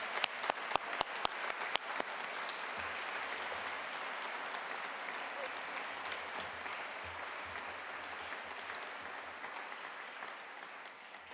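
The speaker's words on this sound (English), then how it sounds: "I think you should deserve a round of applause." Audience applause at an awards ceremony, opening with a few sharp individual claps before swelling into steady, sustained clapping from a large crowd that carries on through to the end.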